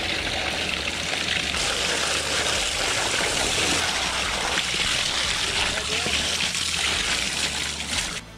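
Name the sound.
water rinsing sediment out of a koi pond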